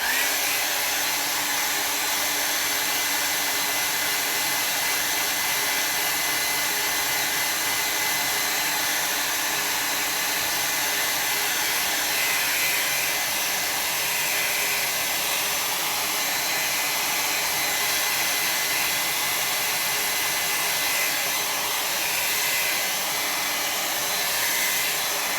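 A hair dryer blowing on a watercolor landscape painting, a loud, constant whooshing hum held steady and close for the whole stretch without a break.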